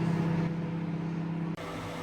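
A steady low electrical hum of a microwave heating a cup of water with citric acid, close by and fairly quiet, briefly cutting out near the end before resuming.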